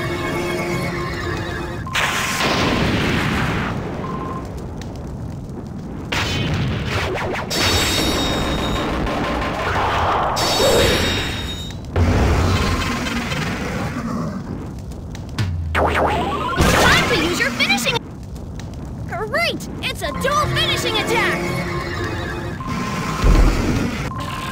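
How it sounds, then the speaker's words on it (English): Ultimate finishing attack in the Mushiking arcade game, a long chaotic run of heavy thwacks, crashes and booming impacts with bursts of bright game effects, loud and close, broken by brief sharp pauses. "It's an ultimate finishing attack!"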